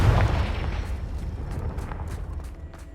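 A Confringo blasting curse explodes in the video game Hogwarts Legacy, opening with a loud, deep boom that rumbles and then fades away, heard on its own without talk.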